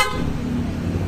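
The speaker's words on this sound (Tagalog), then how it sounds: "May busina yan po." Stock OEM horn on a motorcycle sounding one steady, continuous blast, loud and close, with a buzzy, slightly harsh tone and no speech over it.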